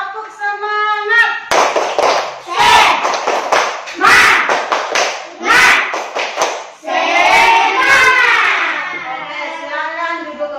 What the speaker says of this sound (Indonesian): kita akan melakukan tepuk fokus